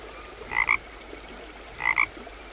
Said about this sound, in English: There are 2 frogs on the river.